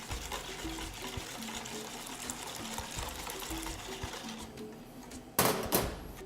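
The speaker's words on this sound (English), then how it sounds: "Going to take the hot cream and slowly pour it in." Hot cream poured slowly over a whisk into eggs for crème brûlée, a soft continuous liquid trickle, close and faint, ending in a brief louder splashy clatter.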